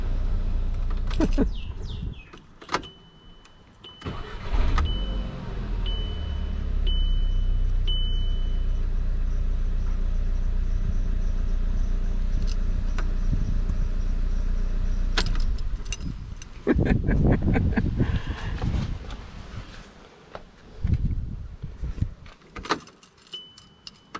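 A Volkswagen MK5 Golf engine, just after a fuel filter replacement, starts and runs briefly on the fuel left in the lines. A loud, steady low rumble lasts several seconds, with keys jangling and clatter before and after.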